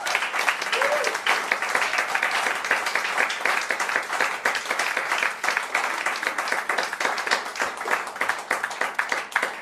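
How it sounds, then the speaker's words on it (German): Sustained audience applause after a concert by an octet in Leipzig, a dense, even wash of many hands clapping throughout, fairly close and full. "das ist ein Applaus wert"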